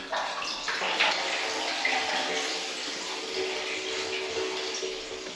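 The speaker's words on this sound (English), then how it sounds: "that's what's draining back from the septic" Water drains back down a pipe from a septic system after a sewage pump test at a hillside stained glass studio, a steady rushing, gurgling flow that holds close and even throughout.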